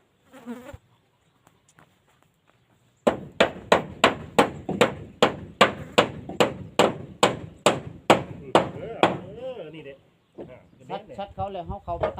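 A hammer strikes a shoe heel piece about fifteen times in an even, steady rhythm, each blow sharp and close, with brief talk before and after the run.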